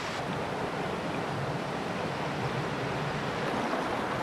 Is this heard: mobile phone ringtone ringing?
no